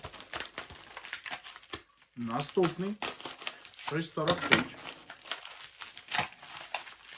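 Crinkling plastic rustles and tears in bursts as a package is opened, with a person talking over the noise throughout.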